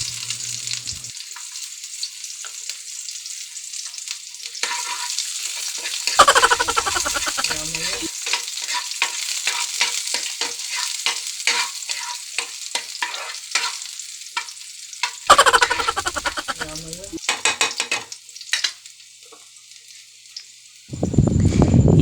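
Onions sizzle and fry in a pan alongside cooked adobo-style pork liver, with steady crackling broken by bursts of stirring and scraping, loud and close with no talk.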